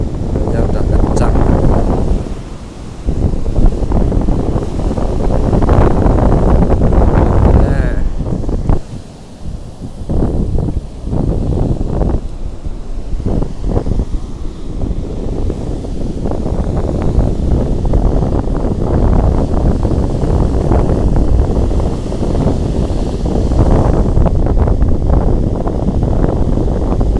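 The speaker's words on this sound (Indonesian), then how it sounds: "udah agak kencang ini anginnya" Strong wind on a southern beach while fishing from the sand, buffeting the microphone in loud gusting rushes with brief lulls, with people talking intermittently over it.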